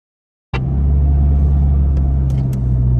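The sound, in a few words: 4WD vehicle driving off-road at Cape Elizabeth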